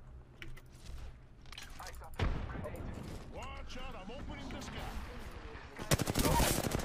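Apex Legends gunfire cracks in sharp bursts, with rapid automatic volleys near the start and again toward the end. Players talk quickly over the shooting.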